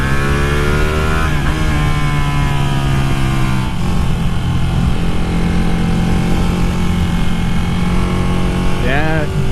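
A Ducati Panigale 959 engine hums steadily under wind noise during a test ride, its pitch shifting as a gear change is attempted, loud and continuous from start to finish.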